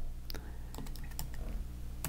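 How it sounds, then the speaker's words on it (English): Quick clicks from a computer keyboard as a question is typed, a short uneven burst of keystrokes over a steady low hum in the room. "I just begin to type in my question"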